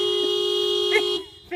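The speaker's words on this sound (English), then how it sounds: "in some states it's illegal to honk the horn" A car horn honks in a sustained steady tone for about a second, close and fairly loud, with a brief voice or squeak near the end before it cuts off.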